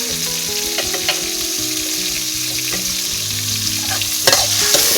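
Shallots and garlic sizzle and fry steadily in hot oil with Blue Band margarine, with scattered stirring scrapes and clinks from a utensil in the pan and no voices.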